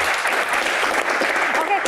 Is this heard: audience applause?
yes